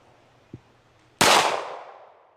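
A single sharp gunshot fired at targets outdoors, close and loud with a ringing tail, preceded by a faint soft knock.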